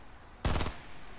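A brief burst of Fortnite gunfire, a quick rattling run of shots lasting about a quarter second, rises loud above quiet game background.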